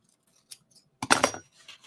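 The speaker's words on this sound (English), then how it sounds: "then you get your super sharp scissors" Super sharp scissors snip through cheer-bow ribbon at an angle, giving a faint click and then one close, crisp cutting crunch.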